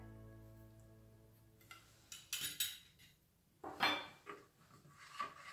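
A spoon stirs homemade car shampoo in a container, giving a few light clinks and scrapes in separate bursts, faint and close, with quiet pauses between them.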